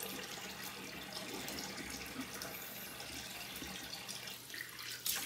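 Tap water running steadily into a sink while shaving soap is rinsed off after a double-edge razor shave, a constant close hiss with small splashes near the end.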